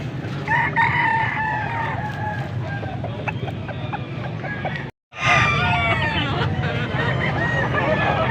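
Roosters crow repeatedly and cluck at a busy gamecock market in Angeles City, Pampanga, loud and close over steady crowd babble, with a brief silent gap midway before the crowing resumes.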